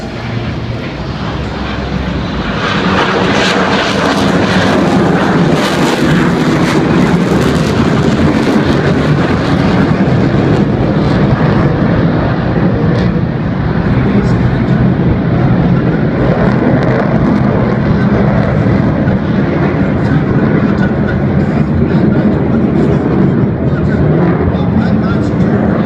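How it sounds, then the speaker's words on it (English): A Republic of Singapore Air Force Black Knights F-16 fighter jet in full afterburner at the Singapore Airshow 2014 makes a loud, continuous roar that swells and holds for the whole stretch, with a voice faintly underneath. "You can feel the power of the F-16 as Black Knight 6 multiplies in full afterburners."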